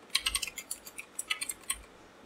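Quiet typing on a computer keyboard, a quick irregular run of about a dozen key clicks in two bursts, close and alone without speech.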